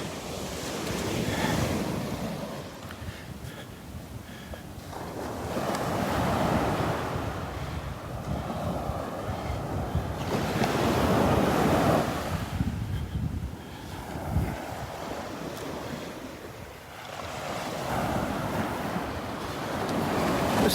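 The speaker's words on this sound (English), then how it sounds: "Loving these little waves this morning." Small ocean waves break on a windy Gulf beach at Delnor-Wiggins in the morning, surging and receding in slow swells of surf under strong wind buffeting the microphone, with no talking.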